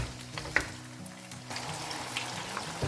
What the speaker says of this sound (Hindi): अब हमें गोश्त को भूनना है जब तक कि गोश्त अपना रंग तब्दील ना कर ले